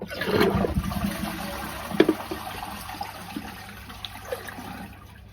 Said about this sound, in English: the water's switched off at the mains. We're going to empty this cistern.